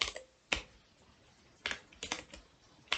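Keys clack on a computer keyboard while Python code is typed, a handful of sharp isolated taps and a quick cluster of strokes, close and clear with no talking.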